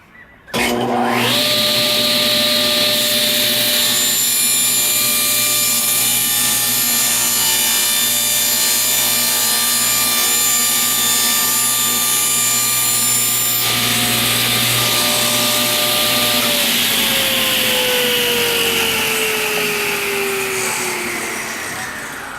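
A table saw fitted with a Rockler miter sled spins up and trims a wood strip to size. A loud, steady whine holds for most of the clip, with a bright cutting phase, and then the pitch drops gradually as the blade spins down. No one talks.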